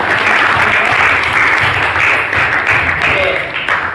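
Students in a classroom applaud loudly and continuously, a thick, close burst of many hands clapping that lasts the whole moment and fades slightly at the end.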